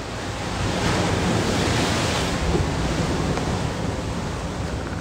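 Ocean waves washing onto a California beach, a loud, steady broadband rush of surf with some wind noise, alone without any voices.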